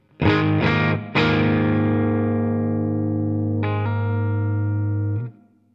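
An electric guitar plays through a Tonex One pedal set to an AC-style amp with added gain: a few quick picked chords, then one big distorted chord rings out, a second strum joins it, and the sound sustains loud before cutting off.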